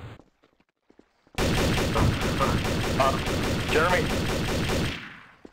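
Dense, continuous gunfire from a Trouble in Terrorist Town round erupts after a second of near-silence and rattles on loudly for several seconds before cutting off, with a shouted name over the volley.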